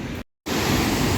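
Steady, broad roar of Victoria Falls, the waterfall on the Zimbabwe–Zambia border, loud and continuous, briefly cut out before resuming at full strength.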